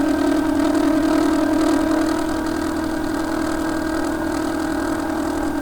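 A Honda Trail CT125 motorcycle rides in third gear at around 30 mph, its engine a steady, loud, even drone with constant mechanical hum throughout, mixed with road and wind noise.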